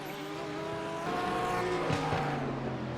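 GT3 race cars in an iRacing race, including a McLaren, Ferrari and Ford, with a Ferrari spinning the Ford into turn 2: tires squeal and skid over droning engines, loud and continuous, with a rough scrape of contact near the end.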